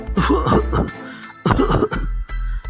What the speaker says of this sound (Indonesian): Orang yang ditegur batuk-batuk beberapa kali.